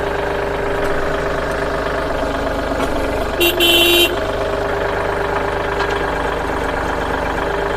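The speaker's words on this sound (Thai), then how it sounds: "อันนี้ยกแบบไม่เล่นเครื่องนะครับ" Kubota L3608 SP tractor engine idling steadily and loud at close range while the hitch is raised without revving, with a brief higher mechanical whine partway through.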